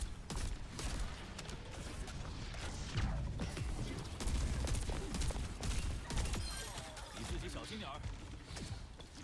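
Video game gunfire and a grenade in a competitive shooter form a dense, continuous clatter of shots and impacts under a player's steady commentary, the mix busy and cluttered throughout.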